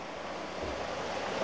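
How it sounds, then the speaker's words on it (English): Water rushing through a gully in a town park in Spain, a steady, close, broadband wash with no break and no voices. "The water sound's coming from here."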